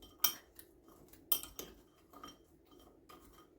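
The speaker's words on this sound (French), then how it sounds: "je vais tout mélanger pour qu'on voie un petit peu les croissants quand même" A spoon stirring croissant-shaped cereal in a bowl, with a couple of sharp clinks against the bowl and softer scraping and rustling between them, close and quiet.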